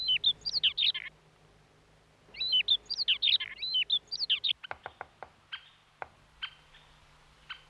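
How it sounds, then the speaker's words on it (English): Birds sing in spring woods around a marsh in Hokkaido, with bursts of high chirping and trilling phrases, then a run of sharp separate calls, fairly close against a quiet background. "in spring, the woods echo with the sound of birds"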